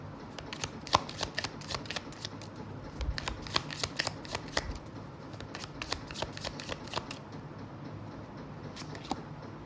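Tarot cards are shuffled and drawn in rapid, crisp riffling bursts of papery snaps and flicks, close and fairly quiet, continuing throughout with faint room hum.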